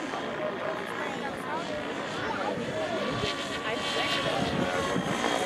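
Raptor E720 RC model 3D helicopter with its rotor spinning at about 2000 rpm, a continuous buzzing whir at a moderate distance over outdoor background noise at an airfield in Soltau.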